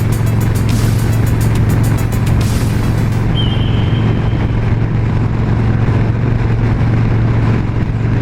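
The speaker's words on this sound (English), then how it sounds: "I hate passing these trucks," Loud, steady highway road and engine roar from a vehicle cruising at about 70 mph while passing a FedEx double-trailer truck, with a brief whooshing hiss in the first few seconds and no talking.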